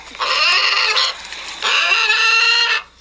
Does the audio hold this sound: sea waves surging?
no